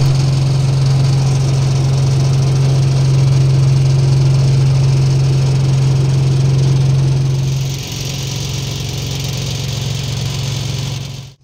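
A tour boat's engine runs steadily on a dam reservoir, a loud, close, droning hum that shifts and eases slightly about two-thirds through before cutting off at the end.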